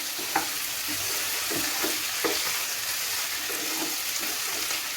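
Chicken chukka stir-fried in a pan gives a close, steady sizzle with scraping stirs and occasional soft clatters, with no talking over it.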